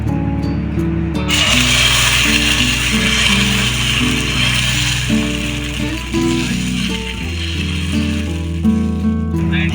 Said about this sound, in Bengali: চাটুটা ভালো করে গরম করে নিয়েছি আর একটু সামান্য অয়েল ব্রাশ করে নিয়েছি, এবারে দিয়ে দেবো।